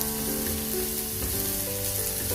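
Carrot and capsicum sautéing in a non-stick frying pan, giving a steady, close sizzle and crackle throughout, with no talking.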